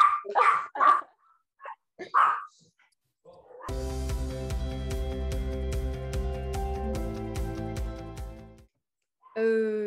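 A dog barks in a few short, sharp bursts, followed by a long stretch of sustained piano-like chords, with a voice speaking at the very end.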